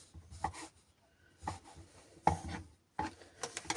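A knife cuts processed cheese into small cubes on a board for a crab stick salad. Three or four separate cuts land close by, each one a short chopping knock with a scrape, and quiet gaps fall between them.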